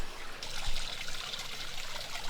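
Water trickling in a backyard creek where a minnow trap is set, a steady soft broadband wash with small bubbling variations, continuous and fairly quiet throughout.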